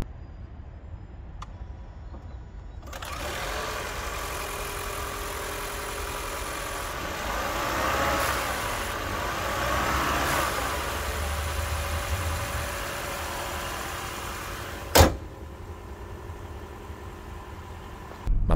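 Lexus RX 350h hybrid SUV with a 2.5-litre petrol engine and e-CVT running, a steady low hum that swells slightly in the middle, with a sharp click near the end.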